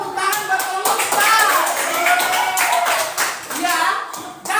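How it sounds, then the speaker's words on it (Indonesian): Children in a classroom clap together during a computational-thinking lesson, a fairly loud, steady patter of hands with voices chattering over it throughout. "Tepuk tangan buat pemirsa."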